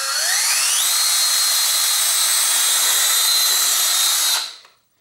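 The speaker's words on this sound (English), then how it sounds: "I'm gonna drill a hole straight down through both boards" A power drill bores a hole straight down through two stacked wooden boards while building a T-shirt screen printing press, winding up to a loud steady high whine that holds for about four seconds and then spins down, close and with no speech.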